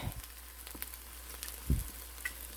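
Eggs fry in olive oil in a pan with a steady, close sizzle and crackle. Occasional louder pops and stirring knocks break through.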